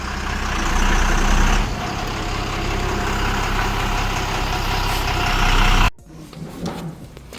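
A 14-wheel truck from Allahabad idles steadily with a loud, low engine rumble as it is reversed in to park, then the sound cuts off abruptly near the end, leaving a quieter background.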